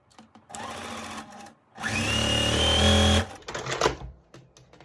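A sewing machine stitches quilt pieces for a pinwheel star block, running in a short burst, pausing, then a longer steady run with a rising motor whine, followed by handling clicks and rustling.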